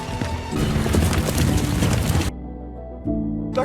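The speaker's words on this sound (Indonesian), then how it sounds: "William segera memacu kuda membawa Pak Gyu melarikan diri." Horse hooves clip-clop in a fast, steady rhythm, fairly loud and close, before cutting off abruptly into a quieter stretch with a low tone.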